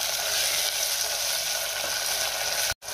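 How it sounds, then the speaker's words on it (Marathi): Chopped tomatoes and finely cut coriander sauté in a hot pan with a loud, continuous sizzle and hiss for a few seconds, then sound cuts off abruptly near the end. "आणि त्यातच बारीक चिरलेली कोथिंबीर घालूया आणि टोमॅटो सुद्धा आपण 1 मिनिटभर चांगला परतून घेऊया।"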